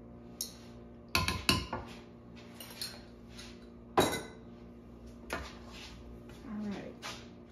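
A spoon clinks and scrapes against a mixing bowl as mashed bananas are stirred into thick banana sheet cake batter, with irregular close knocks and a soft voice speaking in the background.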